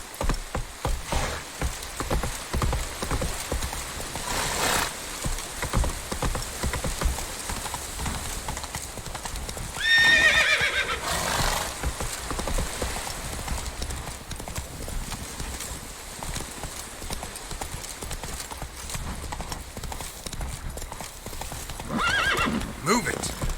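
A horse's hooves clip-clop steadily in The Witcher 3, with a loud whinny near the middle and a faint rain-like patter underneath, while a man urges the horse on in short spoken bursts.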